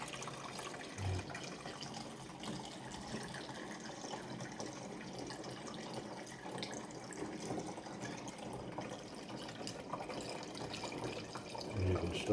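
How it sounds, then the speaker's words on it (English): Water trickles and gurgles steadily into a Breville Oracle Touch espresso machine as the boiler starts to boil, a low continuous flow with faint bubbling building near the end, close and moderately quiet. "water starting to go through into the system, and the boiler is actually starting to boil up"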